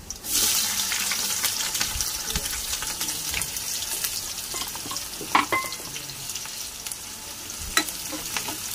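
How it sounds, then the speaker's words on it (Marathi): Chopped onion tipped into a pan of frying garlic: a sudden burst of loud hissing sizzle that stays dense and steady, with occasional clinks and scrapes of a spoon against the pan. "आपलं लसूण चांगलं भाजलंय, आपण कांदा घालूया"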